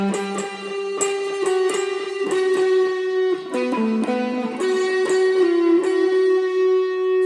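Electric guitar plays a melodic phrase with chorus, delay, tremolo and reverb: picked notes ring out and shimmer, a few quick repeated attacks give way to held tones, steady and up close with no voices.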